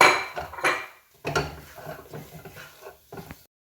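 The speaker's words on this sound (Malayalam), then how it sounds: "നമുക്ക് ഇതിലേക്ക് ഇനി മല്ലിയിലയും കൂടെ ചേർത്ത് കൊടുത്തിട്ട് നന്നായിട്ട് ഇളക്കിയെടുക്കാം" A spoon scraping and stirring a drying potato and coriander cutlet mixture in a pan, giving short, uneven clatters and scrapes with brief pauses between strokes.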